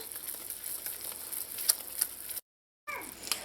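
Sugar syrup for homemade marshmallows boiling in a pot, a soft steady bubbling and faint sizzle close by, with a brief silent gap near the end.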